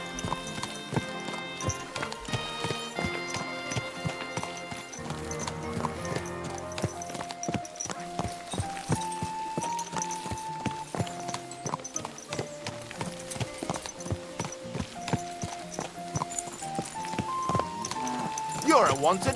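Horse hooves clip-clop at a steady trotting rhythm in the medieval game Kingdom Come Deliverance II. They sit under continuous orchestral game music, with voices speaking over them.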